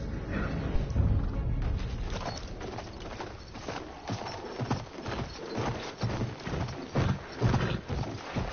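A horse's hooves clip-clop in the video game Battlefield 1, a steady rhythmic run of sharp, moderately loud hoof strikes mixed with mechanical game sounds, with no voices.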